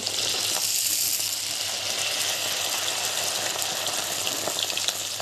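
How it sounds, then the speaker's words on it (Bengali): Raw rice grains frying in hot oil give a loud, steady, dense sizzle that holds evenly throughout with no voices. "চালগুলো সবগুলো ভাজা হয়ে গেছে এবার এগুলোকে তুলে নিচ্ছি"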